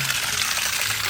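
Water running out of a garden pond in a steady, fairly loud gushing flow, close by and with no voices.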